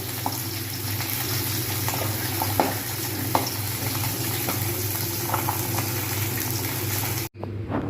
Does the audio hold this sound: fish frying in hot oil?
yes